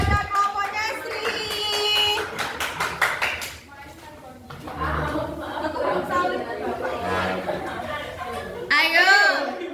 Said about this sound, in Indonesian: Beri tepuk tangan kepada kelompoknya Sri.